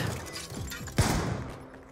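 A burst of gunfire in Call of Duty: Black Ops II, several sharp cracks and a heavier thump near the middle, loud and close, with no voices.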